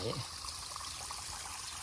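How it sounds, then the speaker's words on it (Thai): A small garden waterfall in a fish pond pours a steady, close splashing trickle of water, constant throughout, with a brief voice at the very start. "น้ำตกนะคะ"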